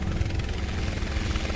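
A helicopter in the video game Chained Together makes a loud, steady rotor whir with fast, rhythmic chopping over a low engine rumble, heard alone and continuous throughout.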